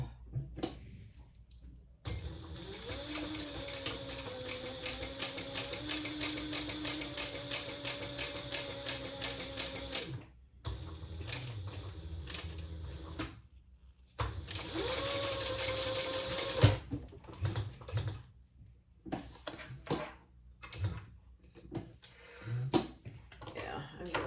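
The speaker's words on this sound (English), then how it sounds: "now we're gonna top stitch across the top" A sewing machine top stitches across the top of a lining, running in long steady rapid bursts close by, with pauses between runs and a voice talking at times.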